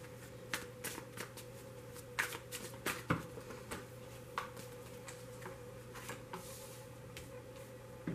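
Soft, repeated riffling and slapping of a tarot card deck being shuffled, in uneven bursts over a steady low hum, close and fairly quiet.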